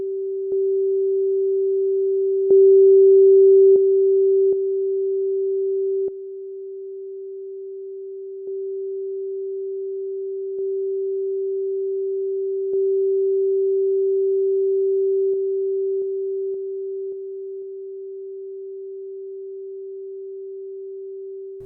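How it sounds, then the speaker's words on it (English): A steady pure tone holds at one pitch throughout, smooth and unwavering, with its loudness stepping up and down a few times. "While the sine wave is not the most interesting sound"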